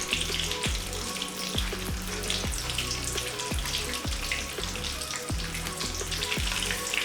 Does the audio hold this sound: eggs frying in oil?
yes